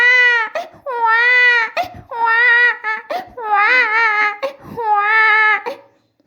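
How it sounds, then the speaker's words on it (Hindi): An infant cries in a children's rhyme, a sung, high, wavering wail repeated in five long bursts with short breaths between, loud and close. "लेकिन बच्चा रोता ही रहा"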